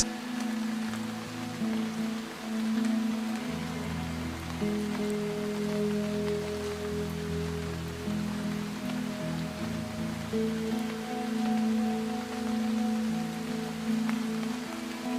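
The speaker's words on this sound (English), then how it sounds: "It has been raining the whole day today." Steady rain falls through a whole day, a continuous hiss of drops on surfaces with a low rumbling undertone, even in level and unbroken by voices.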